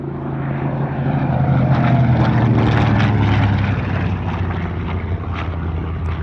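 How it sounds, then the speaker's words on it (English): A TBM Avenger, the heavy single-engined WWII warbird, drones loudly with its propeller engine at an airshow, a steady low-pitched roar that swells and holds close throughout. "we see a TBM Avenger, the heaviest single-engined aircraft of the Second World War"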